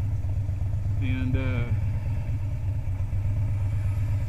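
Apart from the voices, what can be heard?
Harley-Davidson Street Bob air-cooled motor idling at lights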